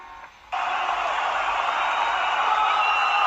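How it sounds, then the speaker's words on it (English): A dense, steady roar of a crowd cheering and screaming swells in suddenly and holds loud and constant without a break. "Loud cheering and screaming."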